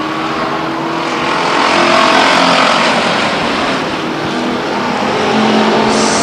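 Race cars at Stockton 99 Speedway roar loudly and continuously, engines droning and swelling as the pack circles close by on the oval.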